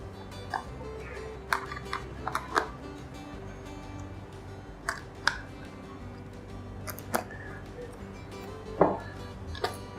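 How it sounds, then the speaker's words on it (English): Small screws being removed from a Power-Pole HPU motor assembly, a series of sharp isolated clicks and ticks from the tool and hardware spread irregularly over a quiet background. "Remove these 4 screws."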